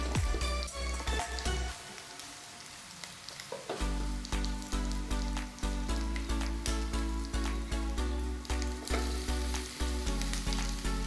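Mashed potato is mixed into sizzling tempering in a pan, with loud continuous frying crackle and stirring, close up, over a rhythmic, beat-like backing that pulses steadily throughout.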